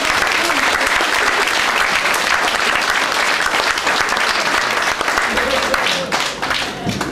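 An audience on a Romanian storytelling stage show breaks into loud, sustained applause. The dense clapping runs steadily from start to finish and thins only slightly near the end.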